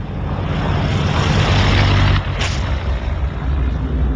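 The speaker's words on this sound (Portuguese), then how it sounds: "Tibbets decolou o Enola Gay com habilidade a poucos centímetros do fim da pista." A B-29 bomber, the Enola Gay, roars on takeoff with its propeller engines, a loud, dense, continuous drone that dips briefly and then carries on.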